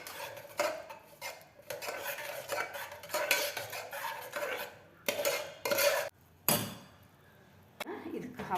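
A spoon mashing soft pressure-cooked toor dal in a steel vessel for sambhar: repeated scraping and clinking strokes of metal against the pot, close and fairly quiet, with someone speaking over them.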